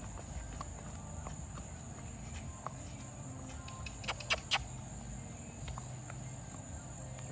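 Standardbred gelding walking outdoors, soft hoof clip-clops scattered through the stretch with a few sharper knocks near the middle, over a quiet background of insects.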